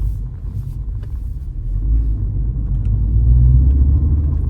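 A Mini Cooper S engine hums low and steady while driving, a deep rumble building slightly louder toward the end.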